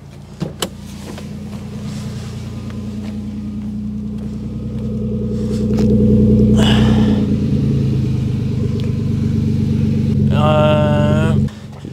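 A Toyota Supra MK4 engine idles and hums at low pitch, swelling briefly as if revving, with a whine and a click near the end.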